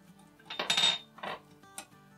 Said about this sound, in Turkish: Unumu azar azar böyle ilave ederek güzelce bir sos hazırlıyorum.